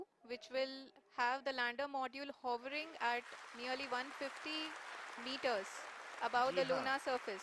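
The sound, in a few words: applause from scientists in mission control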